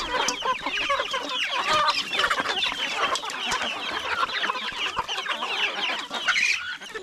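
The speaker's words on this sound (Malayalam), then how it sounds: "അപ്പൊ കോഴികൾക്ക് തീറ്റ കൊടുക്കാനായിട്ട് വന്നേക്കാണ്" A flock of chickens clucks densely and continuously at close range while being fed in a backyard, with no talk.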